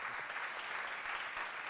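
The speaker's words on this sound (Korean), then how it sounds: "박수로 하나 둘 셋" A church audience at a pastor's seminar claps together in a brief, steady burst of applause, dense and even, heard from a moderate distance with no talking over it.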